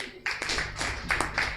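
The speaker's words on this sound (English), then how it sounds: "Another round of applause for my Lord." Brief applause at a criminal law review conference session, a handful of audience members clapping in uneven bursts for under two seconds, fairly faint and roomy.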